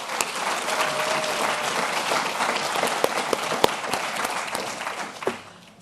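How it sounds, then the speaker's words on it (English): Audience applause for entrepreneurs at a business school startup event, dense clapping with a few sharp individual claps standing out, fading near the end. "let's give another round of applause to all our entrepreneurs"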